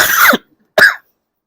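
Two separate coughs, close and fairly loud, the first longer and rougher, the second short, with a pause between them.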